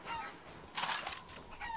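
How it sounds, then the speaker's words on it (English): Chickens clucking and squawking in the horror video game Resident Evil Village, a faint, brief burst of agitated fowl calls with a louder flurry midway, no talking. "Dumb chickens."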